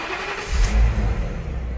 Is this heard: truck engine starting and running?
yes